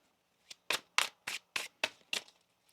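A deck of tarot cards is riffled and shuffled in seven quick, crisp bursts at an even rhythm, close by, with no voices.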